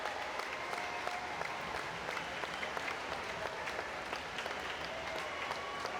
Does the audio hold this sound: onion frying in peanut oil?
no